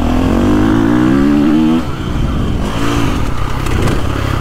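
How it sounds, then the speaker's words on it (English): A 2024.5 KTM 450 Factory Edition dirt bike is ridden through a corner close by, its loud engine dropping from a high rev to a lower, choppy throttle as it exits, with no talking. "The KTM just builds power so smooth."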